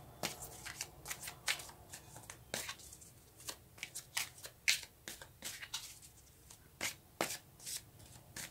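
Tarot cards shuffled by hand in a series of quick, crisp riffling bursts with short pauses between, close and fairly quiet, no voices.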